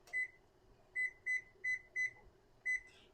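A kitchen timer being set while lard and tallow render gives a series of short, bright electronic beeps, seven in uneven rhythm, close and fairly quiet in an otherwise still room.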